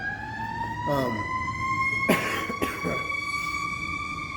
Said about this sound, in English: Ambulance or someone driving by.